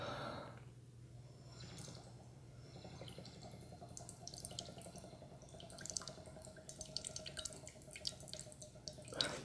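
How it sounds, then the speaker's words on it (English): Water bubbling and gurgling as air is blown through it in a cup set over a container, a continuous close burbling with irregular drips and splashes that grows busier toward the end. "you can hear the bubbling and the gurgling of the water"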